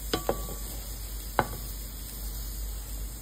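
Onions cooking in a pot for a tuna kimchi stew give a soft, steady sizzle, with a few sharp utensil clinks against the pot near the start and one more about a second later. There is no talk.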